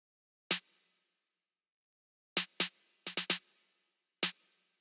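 Dry snare drum hits in a music production track, played alone: one crack, a pause, then a quick uneven fill of several strikes and a final hit, each short with a brief ring.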